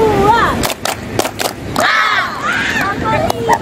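A group of students at a school leadership training session claps in a counted chant, sharp broadband claps sounding among loud shouting voices.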